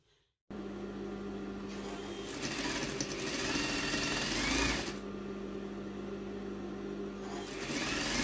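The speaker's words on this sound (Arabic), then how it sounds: "دابا غادي نخيط هذا الفم هذا عمرتها بلاواط، نخيط لها الفم ديالها." An electric sewing machine stitching a face onto fabric for a recycled-clothing craft, a steady whirring motor drone that starts abruptly, runs continuously close by and briefly pauses between runs, with no speech.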